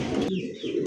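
A white desi golla pigeon coos in a low, rolling murmur through the whole moment, steady and close, with no voices over it.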